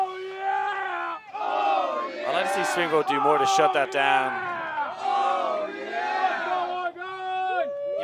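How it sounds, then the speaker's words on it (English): An Oregon team on the sidelines of a club ultimate frisbee match yells and whoops for its friends in repeated loud group shouts, while a commentator speaks over the noise. "You're hearing another Oregon team cheer for their friends now."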